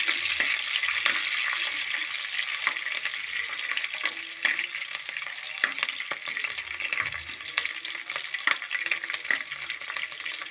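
Chopped green chillies sizzling and frying in a pan while cooking a Kerala fish curry, a continuous bright crackle with occasional louder pops and stirring scrapes, close up and without talk.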